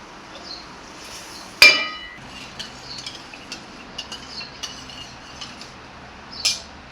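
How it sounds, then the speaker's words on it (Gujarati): A pressure cooker lid being shut: one sharp metallic clank, then a run of light taps and clicks and a final clink near the end, all close by in a quiet room. "હવે આપણે કુકરને ઢાંકણું બંધ કરી દઈશું."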